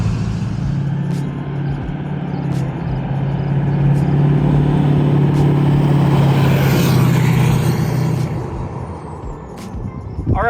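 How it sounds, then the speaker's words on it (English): A Duramax diesel engine idles with a rough, throaty rumble while a thin squeal leaks from a blown uppipe gasket in the exhaust, steady and close for several seconds before easing off. "So that's the squeal that you hear. One of the uppipe gaskets is letting air out."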